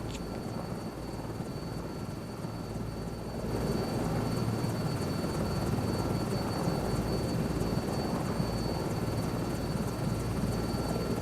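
Steady, loud rotor and turbine drone of an S-64 Skycrane helicopter in Microsoft Flight Simulator 2024, flying with other helicopters near Montreal, continuous throughout and swelling a little louder after a few seconds, with no talk.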